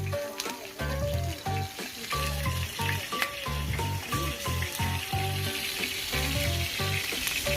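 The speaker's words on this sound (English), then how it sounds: "Now the langustos get to the pan." Langoustines sizzle and fry steadily in a paella pan, a continuous close crackle with stirring and a few clinks, no talking.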